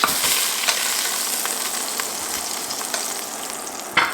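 Smoked meat renders its fat in a pan for southern butter beans, a loud, bright, continuous sizzle and crackle up close, with small pops scattered throughout and a sharper spatter at the end.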